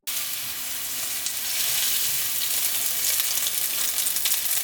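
Canola oil sizzles hot in a frying pan, a steady bright hiss that holds close and constant without a break, no voices over it.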